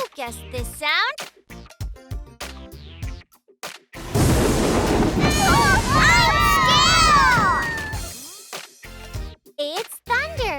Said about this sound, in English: Yes, thunder sounds like a rumble!